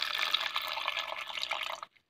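Rose water pours from a cup onto grated orange peel in a blender jar, a steady close splashing trickle lasting under two seconds before stopping abruptly.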